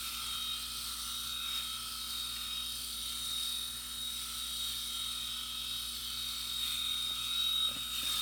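A Skull Shaver Pitbull electric head shaver runs with a steady, fairly quiet motor whir and high buzzing tone, continuous and close with no talking.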